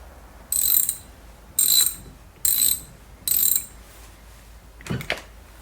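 Four sharp bursts of a ratchet clicking on the steering wheel bolts of a Foxbody Mustang, each a quick metallic rattle with pauses between, close and loud, followed by a softer knock.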